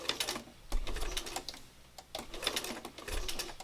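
A sewing machine running at a slow stitching pace, its quiet mechanical chatter coming in short rhythmic runs with brief pauses between them, close and steady.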